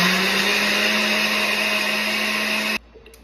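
A countertop blender whirs loud and steady while blending a piña colada smoothie with coconut water, then cuts off abruptly near the end, leaving quiet room sound.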